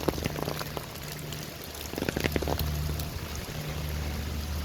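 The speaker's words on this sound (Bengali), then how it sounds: "বৃষ্টি একটা সাউন্ড এই সাউন্ডটাকে উপলব্ধি করতে হলে আপনাকে বাইরে আসতে হবে" Rain falling outdoors makes a steady, moderate hiss with scattered patters, over a faint low hum, with no voices.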